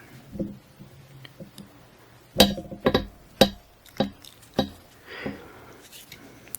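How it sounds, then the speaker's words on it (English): Several sharp, bright clinks of a pendulum ring out one after another, close by and moderately loud, with a faint rustle in between. "That's my pendulum. I hope it wasn't too loud."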